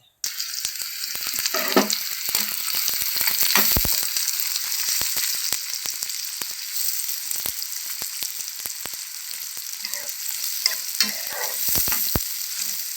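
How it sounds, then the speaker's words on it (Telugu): Onions fry in hot oil in a pan, a steady bright sizzle throughout, broken by occasional scrapes and stirring clatter, close and alone with no voices. "ఆయిల్ వేడైంది ఇప్పుడు ఉల్లిపాయలు వేయాలి"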